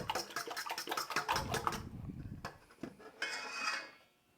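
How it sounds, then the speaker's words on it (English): Quick whisking in a bowl during meal prep, breaking up the contents with a rapid run of light clinking and scraping strokes, then a short pause and a final brief burst, close and fairly quiet. "I'm going to give these a really quick whisk. Just to start breaking them up."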